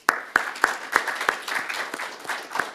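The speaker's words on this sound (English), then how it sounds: "A round of applause, please." Sparse applause from a small audience after a talk: a handful of distinct, evenly spaced claps, loud at first and then thinning into softer, scattered clapping.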